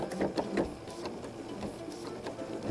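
A domestic home sewing machine stitches fabric in quick, even runs of mechanical clicks, close and moderately quiet, with no speech.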